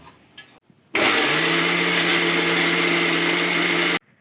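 Mixer grinder blending ginger and chilli chutney, a loud steady whirring drone that kicks in sharply after a short pause and runs evenly for about three seconds before cutting off abruptly.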